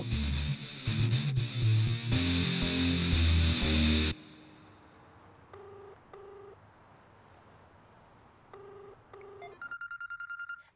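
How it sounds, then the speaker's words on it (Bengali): A telephone in a Bangla-dubbed action romance film gives short electronic beeps, then a rapid trilling ring, after a loud burst of music fades into a quiet room. "মা, আপনার জন্য ফোন আছে।"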